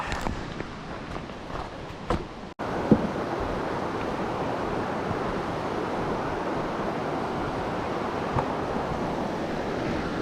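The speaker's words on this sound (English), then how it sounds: "Here's the east branch of the Pemigewasset River" The east branch of the Pemigewasset River rushes past in a steady broadband roar, close and unbroken after a brief patch of footsteps and handling noise at the start.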